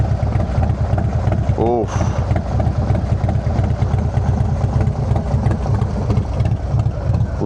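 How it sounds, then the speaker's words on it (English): A Harley Low Rider ST with a 131 engine and Cyclorama 483 cam idles and burbles loudly up close, a deep rhythmic exhaust pulse running throughout, with a brief exclamation from a voice early on. "Cyclorama 483 cam, in combined with the 131 and that beautiful exhaust note"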